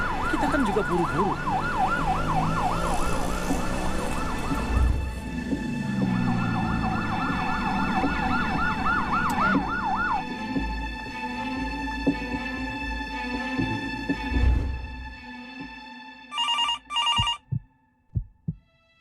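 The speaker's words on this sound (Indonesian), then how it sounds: "Pasti ini ambulans." An ambulance siren wails in fast up-and-down sweeps over traffic rumble for about ten seconds, then cuts off, leaving quieter thuds and a brief burst of telephone-like ringing near the end.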